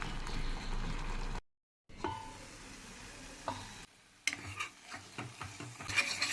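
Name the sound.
onion, ginger, cumin and green chilli sautéing in a pot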